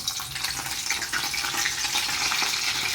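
Garlic fries in a pan for Maggi noodles, giving off a steady bright sizzle with faint stirring clatter, close and continuous throughout.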